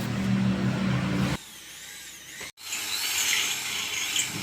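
A power drill with an 8 mm bit bores holes in wood-plastic composite fence boards. A rough, noisy run gives way to a thinner whining spin, which cuts out briefly and then resumes with a higher whine, close by.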